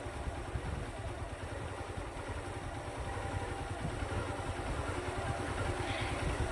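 A motorcycle engine runs steadily while a rider practises releasing the clutch, a low, rough, throbbing idle that stays constant and fairly quiet throughout.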